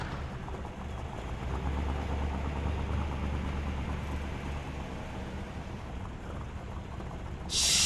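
Green Sabre muscle car idling in GTA San Andreas, a steady low engine rumble held at an even level with broadband hiss throughout, ending in a brief burst of bright noise.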